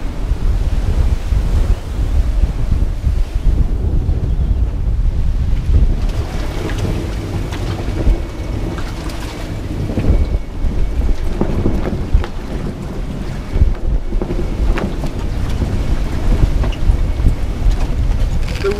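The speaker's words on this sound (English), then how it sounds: "Wind and waves have picked up insanely now the last hour or two." Strong wind roars and waves rush continuously around a sailboat at sea in the North Sea near Shetland, with heavy wind buffeting on the microphone and no voices.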